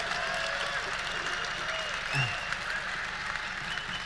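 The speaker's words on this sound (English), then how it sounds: "I've never heard so many people applaud an evasion of a simple question." A large audience at a Christianity-versus-atheism debate applauds in a steady, moderately distant wash of clapping, with some voices murmuring underneath.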